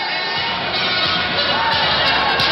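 Steady crowd roar at an ice hockey game, Slovakia against Sweden at the 1994 Olympics, swelling after a long-range shot, loud and continuous throughout with no clear voices on top.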